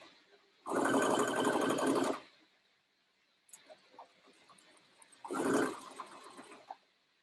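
A sewing machine stitches a half inch seam along a continuous bound placket, two close loud bursts of rapid whirring separated by a quiet gap with faint background sounds.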